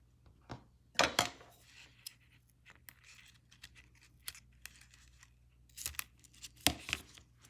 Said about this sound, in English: So what I did was I put the tape on like so.